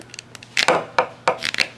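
A table flexes under a hard hit, giving a handful of sharp wooden knocks and creaks, with about four distinct bursts close by over a quiet background.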